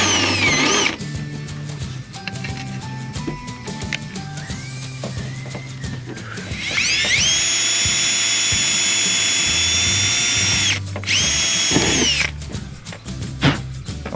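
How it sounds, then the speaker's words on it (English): A power drill drives a screw into a gutter splash guard beside roof flashing, its motor whining in short bursts and then holding one long, loud, steady run before a brief stop and a final burst. "So let's go and drill this in."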